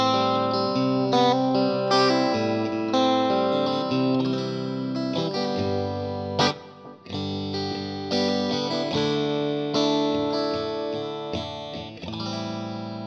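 An electric guitar played through a VFE Blueprint Delay pedal with the echo level raised, sustained chords and single notes trailing into repeating echoes, loud and alone with no talking.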